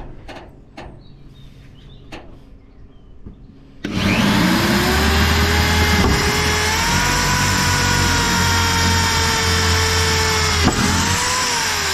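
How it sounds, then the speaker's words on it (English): Power drill boring through trailer boards: a few faint clicks and knocks, then a loud steady motor whir starts abruptly and runs on continuously, close by, with no speech. "So I drilled through"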